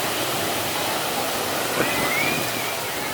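Surf washing onto a Hawaii shoreline on the North Kona coast, a steady broadband rush of small waves with a slightly louder swell rolling in midway, close and continuous.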